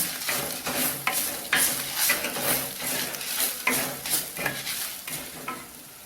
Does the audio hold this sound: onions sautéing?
yes